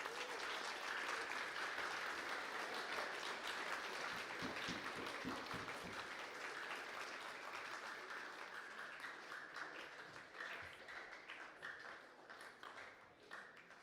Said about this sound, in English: Can we get another round of applause for all recipients today?